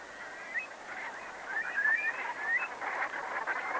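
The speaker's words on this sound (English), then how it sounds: "where the dark-bellied Brent geese come from Arctic climes to winter, feeding on their favourite grasses that grow here in abundance." Dark-bellied Brent geese in marshland give soft, distant honks and murmuring calls, several birds overlapping in a faint, continuous chatter against a quiet open background.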